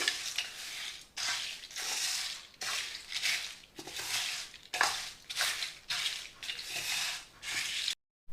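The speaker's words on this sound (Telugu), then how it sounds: "అర టీ స్పూన్ ఇంగువ వేసుకుని కలిపేసుకోవాలి ఇవన్నీ చల్లారే వరకు కలిపేసుకుని పక్కన పెట్టుకోవాలి" Roasted sambar spices with turmeric and asafoetida being stirred in a pan as they cool, giving a steady run of dry scraping, rustling strokes, about a dozen in a regular rhythm, close and fairly quiet with no talk.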